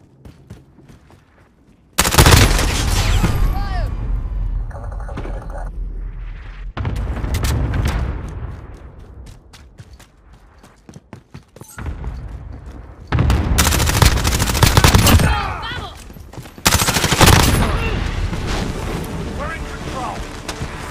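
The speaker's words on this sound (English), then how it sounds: "Grenade out! Allied cluster strike inbound." Modern Warfare combat: bursts of loud gunfire and heavy cluster strike explosions crash in repeatedly, with thunderous blasts and rumbling decays separated by quieter stretches.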